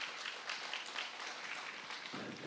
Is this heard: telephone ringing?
no